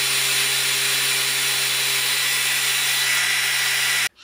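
A Makita 40v cordless angle grinder runs at full speed with a loud, steady, close whirring whine that cuts off abruptly at the end.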